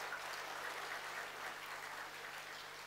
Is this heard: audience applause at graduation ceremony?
yes